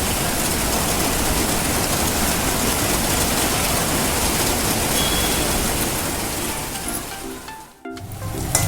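A heavy monsoon downpour makes a dense, steady hiss of rain that holds evenly for most of the stretch, then thins and briefly breaks off near the end. No voices are heard.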